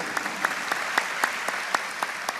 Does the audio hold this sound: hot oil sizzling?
no